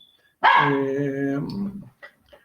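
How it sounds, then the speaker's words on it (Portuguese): A single drawn-out dog bark or howl-like yelp, loud and close, lasting about a second and tapering off, with nothing else around it. "Eu estou com um cachorro latindo aqui."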